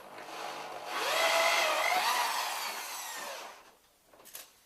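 A power drill bores a hole into a ceiling during an electric shower install: the motor rises into a strained whine that holds for a couple of seconds, then eases off, with a few light knocks at the end.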